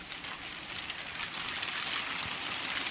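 Steady light drizzle falls at early morning before a bus trip to Mumbai during a long spell of overnight rain, an even continuous hiss of drops with no pauses and no voices.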